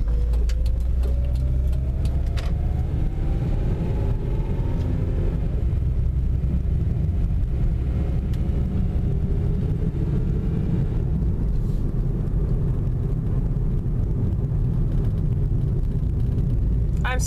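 A car drives along an empty city road with a steady low engine and road rumble filling the background, and a faint rising tone early on.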